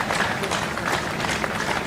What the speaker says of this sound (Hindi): तालियां जोरदार बजाएंगे क्योंकि ताली बजाने से एक्यूप्रेशर होता है।